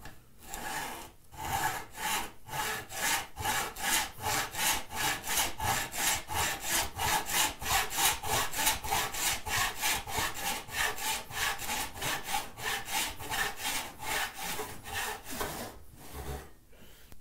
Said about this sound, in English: I'm going to use this groove to guide the saw.